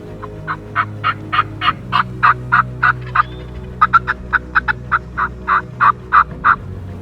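A wild turkey tom gobbles in rapid, rattling bursts, repeating over and over at moderate distance against a quiet outdoor background.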